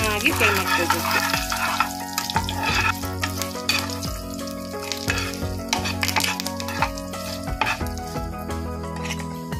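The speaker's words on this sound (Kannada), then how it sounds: "ಇಂಗನ್ನು ಕೂಡ ಇದಕ್ಕೆ ಹಾಕೊಂಡು ಚೆನ್ನಾಗಿ ಫ್ರೈ ಮಾಡ್ಕೋಬೇಕು." Curry leaves and asafoetida fry in hot tempering oil, giving a steady, close crackling sizzle with sharp pops throughout, over a sustained tonal background.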